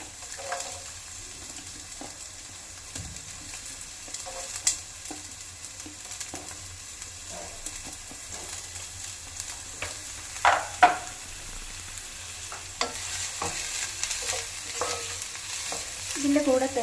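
Two medium chopped onions frying in a pan for chicken kabsa, a low steady sizzle broken by repeated scraping and tapping of a spoon as they are stirred, close and fairly quiet, growing busier toward the end.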